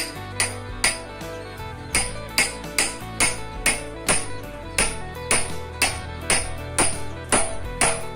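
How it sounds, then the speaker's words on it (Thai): Loud, sharp metallic hammer strikes ring out in a steady rhythm, roughly one blow every half second, each with a brief clanging decay. "เอาค้อนตอกใส่เอาไป"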